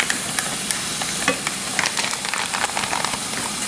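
Hamburger meat and pieces of sausage fry in a pan with a steady, close sizzling hiss, broken by scraping and stirring sounds throughout.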